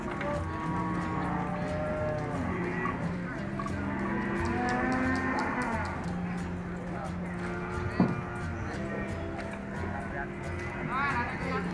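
Big cattle low repeatedly at the Ambarketawang cattle market on a busy morning, long droning moos rising and falling from several animals, with people talking throughout and fowl faintly in the background.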